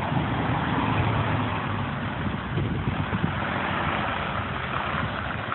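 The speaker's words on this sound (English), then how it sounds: "school bus going by" A school bus rumbles past on a street near a mall parking lot, its low engine drone steady and fairly loud throughout with broadband road noise, no voices.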